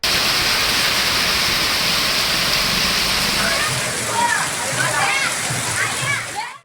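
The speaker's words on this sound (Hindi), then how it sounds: "लगातार बारिश से डभोई की सड़कें जलमग्न हो गई।" Heavy monsoon rain pours over flooded town streets in Dabhoi, Gujarat, a steady loud hiss of falling water and splashing throughout, with faint chirping sounds rising near the end.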